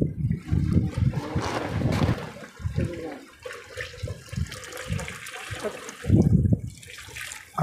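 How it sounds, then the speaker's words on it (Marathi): Hot water poured into a village-style mutton curry cooking over a wood-fired clay stove, splashing and gurgling in uneven bursts that rise and fade, loudest near the end, with no voices. "दादा आता याच्यामध्ये गरम पाणी टाकतोय."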